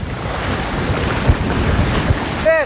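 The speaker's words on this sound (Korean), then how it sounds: "맑은 날씨와 달리 먼 바다까지 나와 그런지 파도가 꽤 높습니다" High open-sea swell off Malta washes and slaps around a boat, a continuous loud roar of waves with wind buffeting the microphone and a couple of low thumps.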